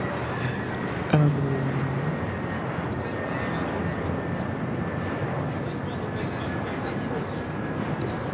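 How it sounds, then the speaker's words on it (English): A Delta Airlines A321 airliner arriving from Salt Lake City makes a steady, broad jet roar at moderate distance, a continuous rumble with a faint whine and a thump near the start. "This arrival is Delta Airlines Flight 1142 coming in from Salt Lake City, Utah on the A321"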